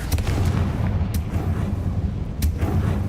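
A Confringo fire spell from the Hogwarts Legacy video game, heard as a continuous loud rumbling blast with low booming energy and a couple of sharp bursts layered on top, and no talking.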